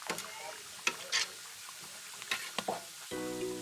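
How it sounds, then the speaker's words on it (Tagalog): Sliced raw ingredients are sautéed and stirred in a pan, with a soft background sizzle and a few scraping stir strokes heard up close, followed at the end by a brief electrical hum. "Hiniwa-hiwa at saka iginisa. Medyo mahirap haluin kasi hilaw pa."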